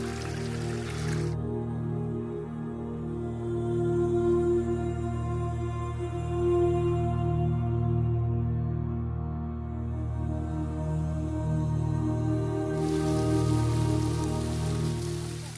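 A waterfall nearly 100 metres high roars as a dense, rain-like rush that holds steady throughout. A low tonal drone sits underneath it, and no one speaks.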